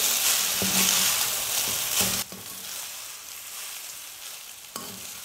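Vermicelli for semiya upma sizzles and fries in a pan over a medium flame, with loud bursts of stirring and scraping that drop to a quieter, steady crackle partway through.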